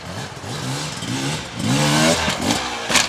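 Beta enduro dirt bike, a 2025 XTrainer or RR X-Pro, revving up a steep hill, the engine rising and falling through several throttle bursts and climbing to a loud high-pitched rev, fairly close.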